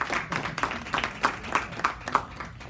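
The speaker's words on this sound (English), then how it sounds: "Everybody give them a big round of applause." An audience at an evening gathering applauds in brief, fairly rhythmic claps that come at a steady beat for a few seconds.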